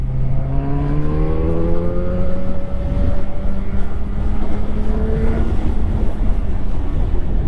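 A 2006 Yamaha FZ1 roadster, restricted to 106 hp, revs hard under acceleration, its engine note climbing in pitch through the gears while loud wind buffeting rushes over it; no speech.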